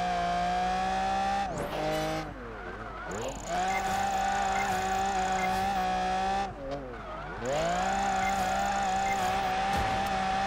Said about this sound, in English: Handbrake drift. Let's get some drifts in